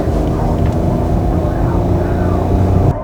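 2024 Maruti Suzuki Swift with a 3-cylinder engine, a loud, close, low engine drone with a rough throb that holds steady for about three seconds.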